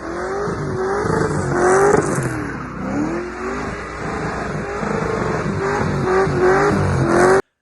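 A Datsun 240Z/260Z engine revs hard and continuously, pitch climbing and falling through repeated accelerations and gear changes, loud and close.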